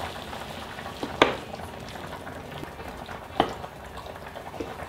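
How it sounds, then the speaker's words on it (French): Burrito bowl ingredients with tomato sauce being stirred in a pan: a soft continuous simmering bubble, broken by two sharp clacks of a utensil against the pan. "Donc là je mélange."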